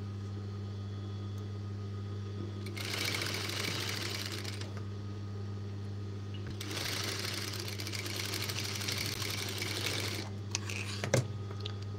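A sewing machine stitches a girl's baby shirt in two separate bursts of rapid whirring, each a few seconds long, with quiet pauses between them over a constant low electrical hum.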